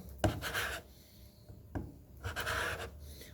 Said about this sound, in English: Usually that's done with a chisel like so